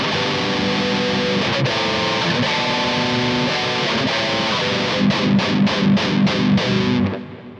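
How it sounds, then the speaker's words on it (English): Heavy distorted electric guitar triad chords ring out on the low strings through a Kemper amp, sustained and loud, ending with a series of rhythmic chugging strums. "if we take that kind of idea on these lower strings, we can make some real heavy tones"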